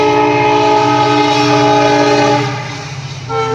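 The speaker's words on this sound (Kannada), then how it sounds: "ಟ್ರೈನ್ ಹೋಗತ್ರಿ" A train passes close by, loud with a sustained harmonic horn blast that fades and drops near the end before the rumble returns.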